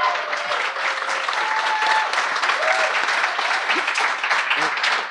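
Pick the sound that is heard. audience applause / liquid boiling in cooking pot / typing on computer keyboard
audience applause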